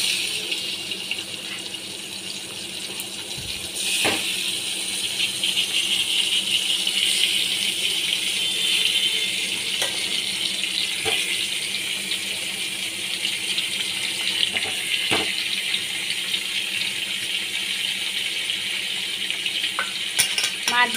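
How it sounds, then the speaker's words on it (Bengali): Hilsa fish pieces sizzle and spit in hot mustard oil, a steady close crackle with a few sharp clicks and rattles as pieces go into the pan, no voices. "এবার আমি এক এক করে মাছগুলো এর মধ্যে দিয়ে দিচ্ছি।"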